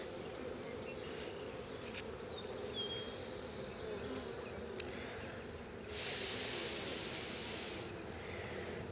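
Honey bees hum in a steady low drone at an open hive during an inspection, with a few faint clicks and a brief hissy rustle partway through.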